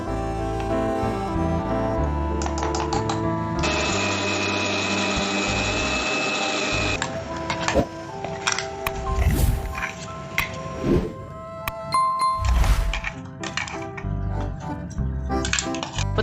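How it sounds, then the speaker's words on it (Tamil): A mixer grinder whirs steadily for several seconds grinding tomato chutney, then the motor stops and loose clattering and knocking sounds follow. "மிக்சியில போட்டு நல்லா அரைச்சிக்கோங்க"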